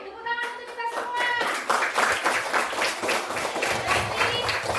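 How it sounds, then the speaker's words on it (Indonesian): Students and a teacher applauding together in a classroom during a coding and artificial intelligence lesson, brisk close clapping from a small group, while a tonal voice or sung note trails off at the start. "Tepuk tangan untuk kita semua."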